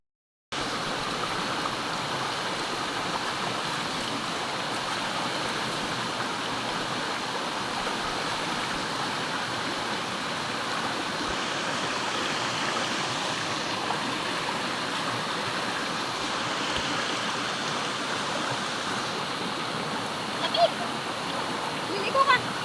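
Stream water flowing steadily at a deep, cold river bathing spot, a constant close rushing wash throughout with a few faint knocks near the end.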